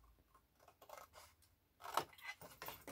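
Scissors snip a small wedge out of the bottom corner of a paper gift bag, giving a few quiet, crisp cuts with one sharper snip near the end.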